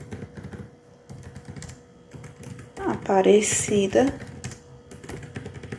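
Quick clicking of keys on a computer keyboard, light and close, while a person speaks over the tapping.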